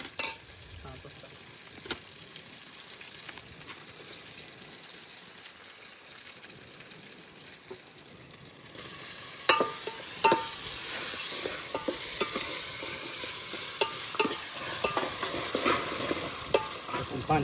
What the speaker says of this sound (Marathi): आता एकदम खतरनाक म्हणजे टोमॅटो भाजणार.